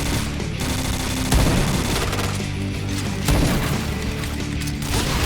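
Sustained loud gunfire in the shooter game Point Blank, dense rapid shots running through the whole stretch with heavier bursts recurring every couple of seconds.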